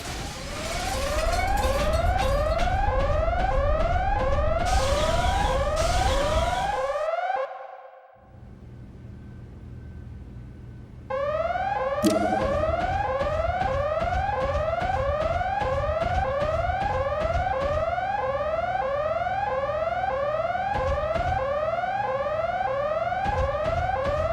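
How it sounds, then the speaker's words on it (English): Warbling alarm in the video game Xenosaga Episode 1, blaring loud and steady as rapid repeating rising tone sweeps. It cuts out briefly for a few seconds of low hum, then resumes just as insistently. No voices. "this alarm would drive me absolutely insane"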